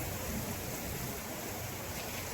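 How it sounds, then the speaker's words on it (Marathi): Steady, dense rain hisses continuously without a break, a broad wash of noise with no voices over it. "पाऊस जोरदार आहे"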